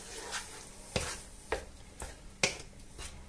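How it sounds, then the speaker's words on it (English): A spoon stirring oregano through a sausage sauce in a pan, with faint scraping and soft sharp taps against the pan every half second or so over a quiet sizzle, close by and without talk. "And I'm gonna add some of this oregano sprinkle. I'll give that a mix."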